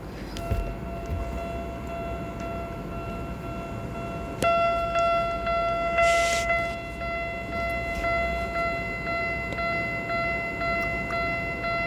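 A train in a video game map of the Don Mueang–Rangsit line rumbles steadily, with tonal horn-like lines entering partway through and a brief hiss burst, continuous and moderately loud with no talk.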